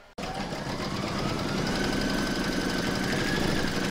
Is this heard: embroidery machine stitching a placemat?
yes